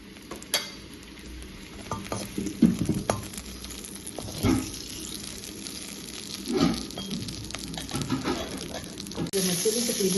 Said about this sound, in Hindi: जो मिर्चें भी तकरीबन फ्राई हो गई हैं,